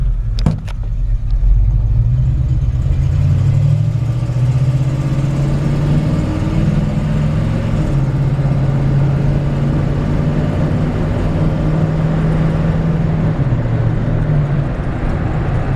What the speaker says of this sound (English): We're going to take it for a quick drive and I'll show you around the truck.